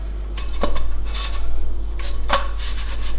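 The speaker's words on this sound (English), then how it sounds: "I am just trying to flip the pancake, but it's nearly impossible" Pancake being flipped in a pan: a handful of metal scrapes and clinks from the spatula against the pan, over a constant low hum.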